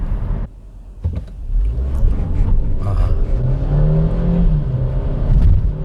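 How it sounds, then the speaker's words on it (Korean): A Kia Stonic gasoline compact SUV pulls away hard on cold tires, and its wheels slip. The engine rises from a low rumble into a loud, climbing rev heard from inside the cabin, with no talking. "가속 페달을 깊게 밟아서 출발을 하니까 슬립 하는데요"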